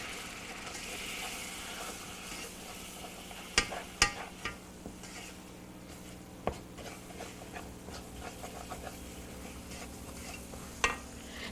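Flour being stirred into melted butter in a pan to make a white sauce over a lowered flame: a soft continuous scraping and faint sizzle with a few sharp clicks of the utensil against the pan.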